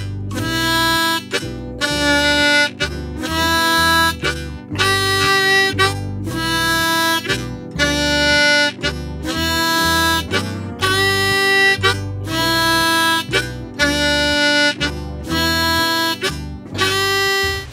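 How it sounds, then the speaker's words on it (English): A blues harmonica riff played with tongue blocking, the tongue popping in rhythmic draw chords over a steady low tone, repeating in a steady groove for nearly twenty seconds with no voices. "Use the tongue to activate those chords."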